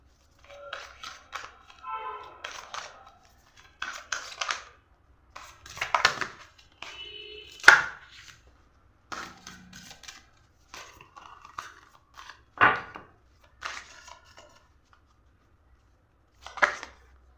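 Tarot cards drawn from a deck and laid out, giving short, close papery slides, flicks and taps in scattered bursts over near silence.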